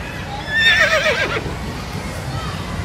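A horse whinnies at an indoor children's playground in Jakarta, one wavering high neigh rising over busy background chatter and a voice.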